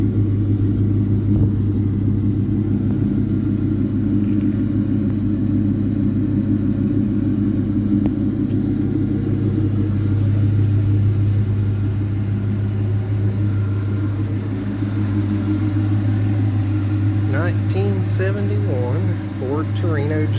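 A 1971 Ford Torino GT Cobra with a 351 four-barrel V8 idling steadily, producing a loud, constant low rumble from start to end, with a few high squeaky sounds near the close.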